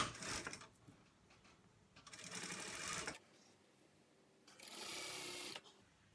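A sewing machine stitches along the edge of a fleece hoodie in three short, close bursts of fast mechanical whirring, separated by brief pauses.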